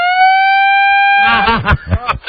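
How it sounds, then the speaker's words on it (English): Siren sound effect played on a radio talk show, a loud steady electronic wail that breaks into a burst of rapid warbling whoops, heard alone without talk. "Give her the siren."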